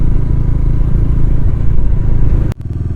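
A motorcycle rides along a foggy road on a morning ride, its engine droning close and steady with a low rumbling hum that briefly dips near the end.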